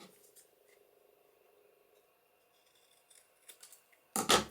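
Scissors cut paper for a specimen tag and envelope craft project. Faint, closely spaced snips tick through the first two seconds, then a few sharper cuts follow and a louder rustle of paper handling ends the clip. No voices are heard.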